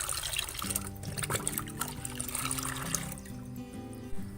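Homemade liquid plant fertilizer made with rice-washing water being stirred, a steady close sloshing and trickling of liquid with gentle swirling throughout, alone without talk.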